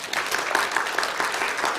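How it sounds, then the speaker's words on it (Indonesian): A church congregation applauding together, a steady dense wash of many hands clapping with a slight rhythmic pulse, continuous and moderately loud throughout. "Kita beri tepuk tangan untuk Tuhan"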